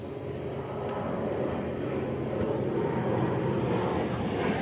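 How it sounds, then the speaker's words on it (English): A steady, broad roar from airplanes flying over from a nearby airport fills the background. It is distant and fairly faint, with no pauses. "Sorry about the background noise. That's just planes."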